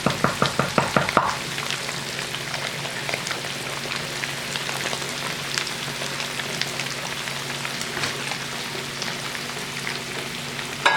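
Beef short ribs browning in a hot pan, a steady close sizzle with a few sharp pops and spatters at the start, then a continuous crackling fry.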